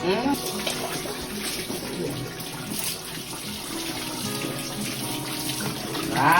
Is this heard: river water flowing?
yes